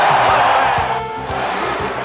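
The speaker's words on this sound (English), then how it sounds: "Listen to the crowd applauding." Arena crowd at a 1994 hockey game applauding and cheering, a steady dense roar with a brief swell partway through, loud and close throughout.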